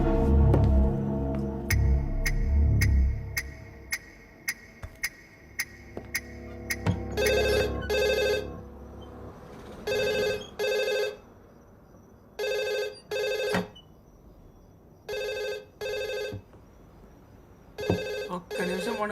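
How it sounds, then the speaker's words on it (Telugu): At night, a telephone rings in a series of loud, evenly spaced bursts, separated by short silences and preceded by a few sharp knocks and thuds. "ఫోన్ మోతుంది ఫోని"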